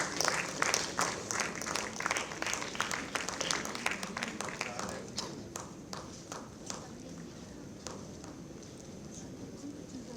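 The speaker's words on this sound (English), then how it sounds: "Big round of applause please." An audience at a crossword competition prize distribution claps for a sustained stretch, dense at first and then thinning into scattered, fading claps, with faint voices underneath.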